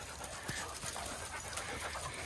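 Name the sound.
dog panting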